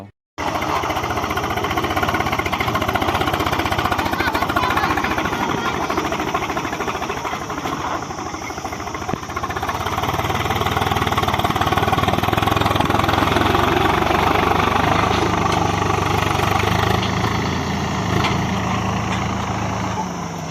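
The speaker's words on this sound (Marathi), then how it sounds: "आता सध्याला इथं किसण्याचं ट्रॅक्टर आलंय" A tractor engine runs steadily and loudly nearby for the whole stretch, a continuous low rumble with a rattling, chugging texture.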